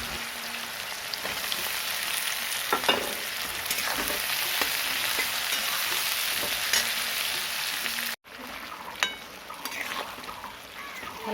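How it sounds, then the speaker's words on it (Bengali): Sliced onion and chopped garlic fry in hot oil, a dense, steady sizzle with occasional stirring scrapes, close and continuous with a brief break near the end. "পেঁয়াজটা একটু লাল লাল করে ভেজে নিলাম।"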